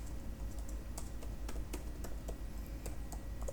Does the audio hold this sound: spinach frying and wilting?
no